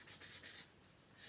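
Marker scratching numbers onto a classroom board during a Year 6 maths lesson, a few soft rhythmic strokes in quick bursts, close and quiet.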